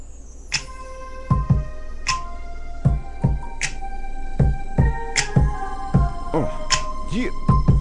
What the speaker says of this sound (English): to create a bass line that I'm going to play via MIDI